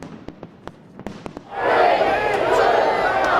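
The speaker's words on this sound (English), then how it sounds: "Sydney's New Year fireworks are being praised as the best ever" New Year's midnight fireworks over Sydney Harbour with a reduced crowd of tens of thousands: scattered sharp pops at first, then a loud, sustained roar of crowd cheering mixed with crackling bursts.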